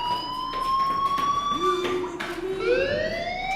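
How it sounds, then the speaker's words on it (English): Fire alarm in the video game Life Is Strange: a loud, continuous electronic tone with wavering pitch that dips and rises like a siren, sounding steadily throughout. "Hey, do you hear that fire alarm?"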